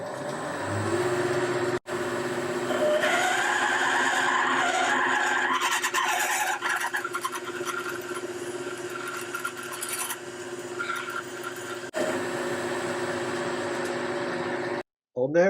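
A 9.5mm drill opens up the hole in a bush for a 10mm optical centre punch, giving a sustained rasping, slightly squealing machine whine with a brief break early on and a stop near the end.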